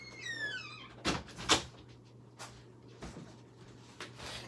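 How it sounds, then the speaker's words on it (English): A door is closed indoors: a few knocking thuds and a sharp bang from the latch, spaced over several seconds, with a faint squeaky whistle-like sound at the start and a low steady hum underneath. "Oh, I gotta close this door."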